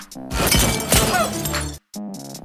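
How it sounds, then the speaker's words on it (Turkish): A glass bottle shatters in a loud, close crash during a TV drama scene, followed by a brief silence and a faint clink. "Bakın bu şişe kırılınca düşüyor."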